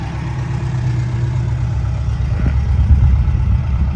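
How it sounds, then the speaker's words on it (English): An old Saab two-stroke car, a V4-era classic like the 850 Monte Carlo, idles and rolls in at an owners' convention, a low steady engine burble with a slightly louder pass near the end over crowd ambience. "There's an old 2-stroke rolling in."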